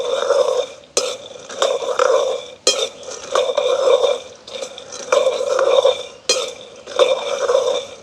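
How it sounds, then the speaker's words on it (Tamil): Peanuts dry-roasting in a pan over a village fire, stirred without pause: a repeating rough rattle and scrape of nuts sweeping across the metal, broken every second or so by a sharp knock of the utensil. "அப்போ கைவிடாமல் தொடர்ச்சியாக நாங்கள் பருவமாக வறுத்தெடுப்போம்"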